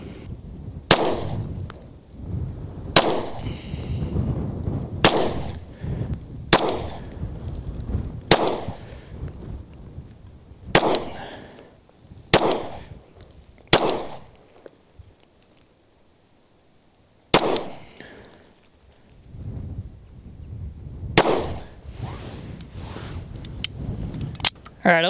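A Sig Sauer P229 stainless steel pistol firing 120 grain Winchester rounds outdoors, about a dozen sharp, loud reports at uneven intervals with a pause of several seconds midway.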